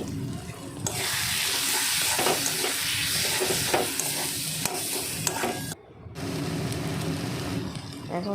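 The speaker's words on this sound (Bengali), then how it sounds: "হলুদ গুঁড়ো, ধনে গুঁড়ো, জিরে গুঁড়ো, লঙ্কা গুঁড়ো এগুলো দিয়ে আর একটু নেড়ে চেড়ে নেব" Ground turmeric, coriander, cumin and chilli powder are stirred into crab masala frying in a pan, giving a steady close sizzle with scraping stirs that breaks off briefly near the end, then resumes.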